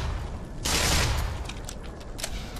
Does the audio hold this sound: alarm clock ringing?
no